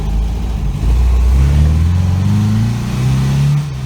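A 1973 MGB GT accelerates hard, its engine rising in a loud, close revving sweep that climbs in pitch, eases briefly and pulls up again, with no voices over it.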